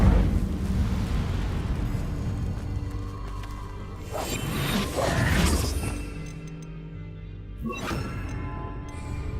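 The Incendio fire spell is cast in Hogwarts Legacy: a roaring whoosh of flame builds and bursts, followed by crackling impacts and a final sharp flare near the end.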